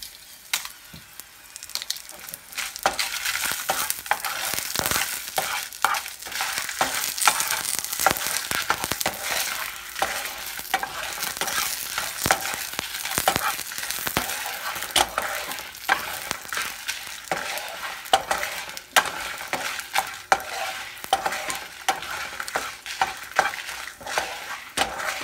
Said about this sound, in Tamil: இதை லைட்டாக வதக்கிக்கோங்க. எடுத்து வச்சிருக்கிற வத்தல்